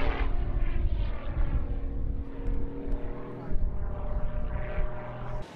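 Lycoming Thunderbolt race plane engine starting up at an air race, a deep rough rumbling drone with uneven surges, heard from nearby amid outdoor ambience and a second engine.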